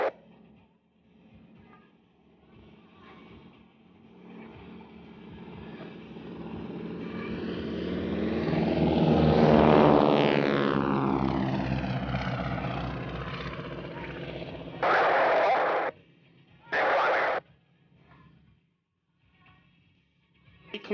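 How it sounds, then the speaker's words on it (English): A radial-engine training aircraft passes overhead at Kemble Airshow with a distinctive whine that swells, peaks loudly as it goes by, then drops in pitch and fades, followed by two short bursts of noise. "that's what gives the aircraft this very distinctive whining noise"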